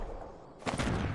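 Gunfire in a video game with high-explosive weapons, a sudden burst of rapid shots kicking in partway through after a low murmur, loud and close.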